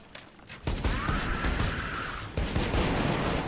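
A gun firing in Borderlands 2, sharp shots with a sudden loud onset and a second burst, mixed with ringing game effects and no speech.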